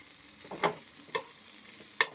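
Hamburger meat frying in a pan with butter while a fork stirs it: three distinct scraping stir strokes over a soft, steady sizzle, close and clear.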